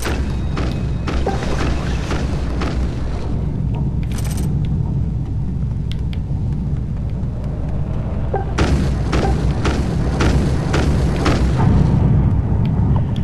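Gunshots and explosions in the video game The Tomorrow Children, a dense stretch of booms, thuds and rumbling with sharp cracks, loud and continuous over a low drone.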